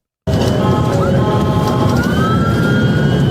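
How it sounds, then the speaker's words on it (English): An emergency vehicle siren blares loudly and continuously as the vehicle tears down a city street, its wailing tone sliding in pitch over steady traffic rumble, with no voices. "she's got the sirens blaring"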